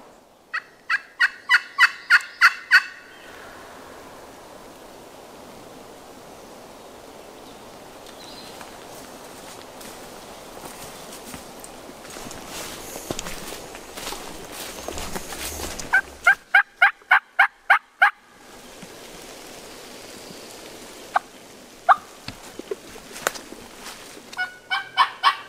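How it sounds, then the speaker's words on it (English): A wild turkey in the Alabama woods gobbles in loud rattling bursts, three separate calls spaced apart, with soft rustling and footsteps in the quiet stretches between them. "He's gobbling good."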